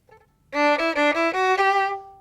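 A fast string passage on a bowed instrument taken slowly, a short group of distinct sustained notes stepping upward, each note clearly separated, ending on a held tone.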